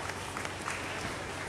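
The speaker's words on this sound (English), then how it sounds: "Children, clap for your colleague." Applause from an audience of children at a church funfair, clapping for a girl; a soft, steady patter of many hands heard at a distance, with a faint crowd murmur beneath.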